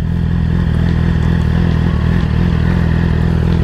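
A Yamaha R6 sport motorcycle rolls along slowly with a steady, loud engine drone and faint clattering, heard up close and without speech.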